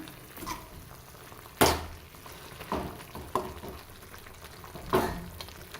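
A pan of drumstick stir-fry with turmeric sizzles steadily while a spoon scrapes and stirs it in a few distinct strokes, close and moderately loud.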